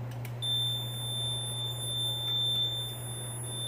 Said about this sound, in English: It's going to keep buzzing because we still got a few troubles.